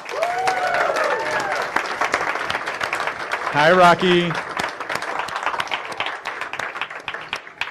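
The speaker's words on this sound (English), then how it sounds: "let's give a round of applause for everybody that puts on B-Sides" A conference audience at BSides Cleveland gives a sustained round of applause, a thick continuous patter of many hands in a hall, with a few voices talking over it.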